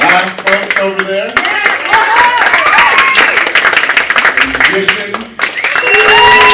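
A crowd at a high school poetry slam applauds all the poets, steady dense clapping with shouts and chatter over it.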